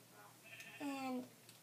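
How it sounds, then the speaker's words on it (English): A baby sheep in Minecraft 1.4.5 gives one clear, wavering bleat lasting about half a second. It sounds fairly close against a quiet background. "But there is a baby sheep"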